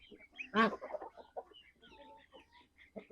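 Chickens clucking close by in a village poultry yard: one loud cluck stands out, followed by a scatter of softer, irregular clucks.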